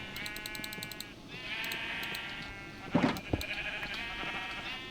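Minecraft sheep bleating in a repeated cartoonish game tone, several calls in sequence over a steady background of game music, with a louder nearby bleat partway through.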